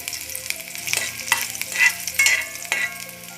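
Chopped ginger, green chillies and a pinch of asafoetida sizzle in ghee and oil in a pan for samosa filling. A spoon scrapes and stirs in sharp, irregular strokes over the steady frying.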